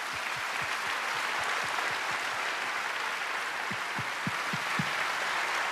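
A congregation applauding during a church revival service, a dense, loud, continuous wash of clapping that fills the hall throughout.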